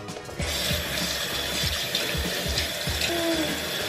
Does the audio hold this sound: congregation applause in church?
no